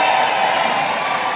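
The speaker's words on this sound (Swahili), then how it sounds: "Nderemo na vifijo bado, makofi na vigelegele." Large crowd at a national conference in Dar es Salaam breaks into steady applause and cheering with high ululation mixed in, a dense continuous wash of clapping and voices at close range.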